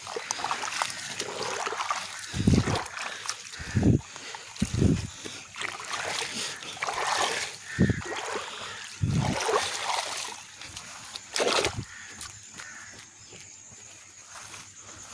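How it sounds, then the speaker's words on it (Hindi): Water rushing fast through a freshly cleared village irrigation channel, a steady broadband wash with several short splashy surges, close and fairly loud, no voices. "इसी वजह से पानी तेज़ जा रहा है।"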